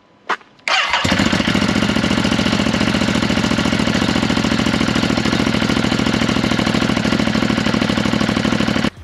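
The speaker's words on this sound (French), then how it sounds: "Si on redémarre, on va voir s'il y a une fuite." A 2022 Ducati Hypermotard 950 SP fitted with a Powerworks Racing decat pipe fires up after a short blip, then idles loudly and steadily up close with a rough, fast-pulsing exhaust throb that runs without a break.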